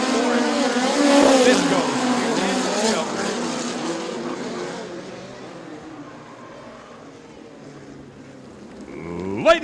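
Lucas Oil POWRi National Midget League race cars roar past at Bubba Raceway Park, a loud engine snarl that fades into the distance as an announcer talks over it, with a sharp burst near the end.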